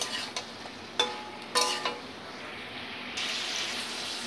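Ridge gourd and potato pieces being stirred with salt in a pan, giving a few soft scraping and clinking strokes over a faint sizzle, with a steady hiss rising near the end.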